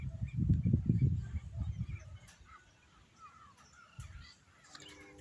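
Wild parrots in the early morning give loud, harsh, raspy squawks, clustered heavily at the start and then scattered and fainter, in open country.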